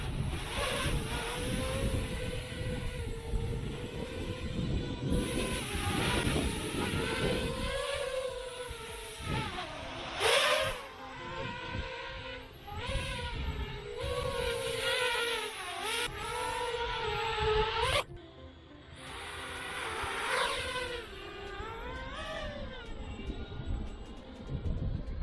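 Gusty wind rumbles and buffets around an HGLRC Sector 5 V2 FPV racing drone in flight, under its high motor whine that rises and falls in pitch throughout.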